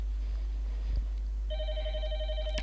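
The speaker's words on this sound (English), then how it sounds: "Xlite's ringing through my headset" After a brief quiet hum, an X-Lite softphone ringtone starts up in a headset, a steady repeating electronic tone that sounds close and clear.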